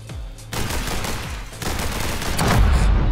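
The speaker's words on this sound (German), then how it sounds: "Das Maschinengewehr ist schon ziemlich cool, aber ich brauche unbedingt mehr Munition" Sustained machine gun fire rattles through the Hong Kong Massacre video game, loud and dense, in a continuous burst with a brief dip before it builds again. No one talks over the gunfire.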